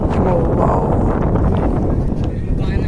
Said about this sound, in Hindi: इतनी तेज़ हवा चल रही है कि मेरे पूरे बाल ही उड़ जाएंगे